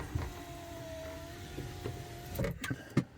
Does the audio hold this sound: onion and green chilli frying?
no